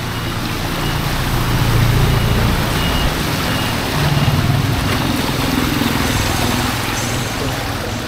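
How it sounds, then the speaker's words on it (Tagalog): Heavy trucks rumbling past on a flooded street near a church after a typhoon high tide, a loud steady engine drone with swelling low passes and a faint repeating reversing beep under the noise. "Ito yung mga truck."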